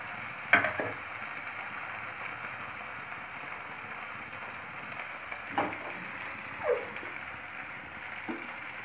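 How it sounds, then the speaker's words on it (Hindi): Steady sizzling of onions frying in hot oil until golden for a sadbari curry, with a few faint clinks of stirring now and then. "हमें इसको थोड़ा सा अच्छे से सुनहरा होने तक तलेंगे।"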